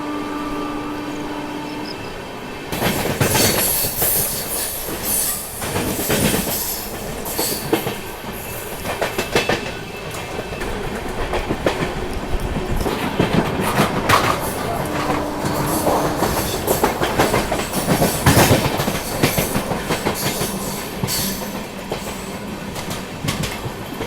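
A train on the Banaras–Sealdah Amrit Bharat Express route rumbles steadily and loudly, heard from on board, with rhythmic clickety-clack of the wheels and brief surges as it passes other trains. No one speaks.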